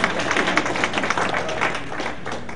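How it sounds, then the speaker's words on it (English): An audience at a media briefing claps in a steady, moderate round of applause, with dense overlapping hand claps continuing for a few seconds. "You should clap louder"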